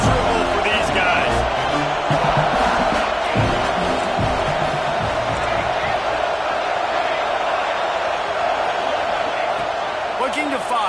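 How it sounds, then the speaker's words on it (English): Football stadium crowd roaring steadily throughout as a team drives near the 15-yard line, a dense, loud wall of sound with no pauses and a commentator talking over it. "This crowd going to try to make life miserable for these guys."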